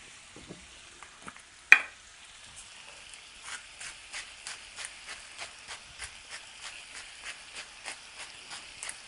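Food fries in a pan with a soft, crackling sizzle, starting with a sharp clank of utensil on metal, then settling into a rhythmic, pulsing hiss of regular bursts as it is stirred, close and fairly quiet.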